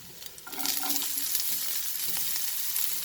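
Spring onion whites hit a hot pan for vegetable fried rice, setting off a sudden loud sizzle that holds steady and close with light stirring noises, no voices.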